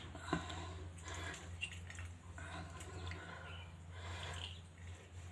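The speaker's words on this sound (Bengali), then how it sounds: "এবার তাকে এভাবে হাতের সাহায্যে এভাবে নিকুড়ে নেবে।" Cooked leaves squeezed by hand to press out their juice give soft, wet squishing and dripping sounds in several uneven bursts, fairly faint and close, with no talking.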